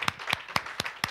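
Five sharp, separate claps at a steady beat, close and fairly loud, in a church service as the congregation is urged to stand and praise the Lord, with no voices over them.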